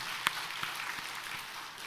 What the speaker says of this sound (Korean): 우리 박수로 한번 하겠습니다.